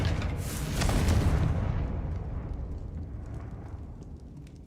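A single deep, loud explosion from the Confringo blast spell in a wizarding video game, a heavy rumbling boom that swells for about a second and then slowly fades into a low, dying tail.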